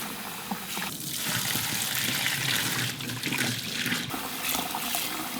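Cold tap water running steadily over freshly boiled Korean noodles in a kitchen, a continuous close splashing trickle with no talking.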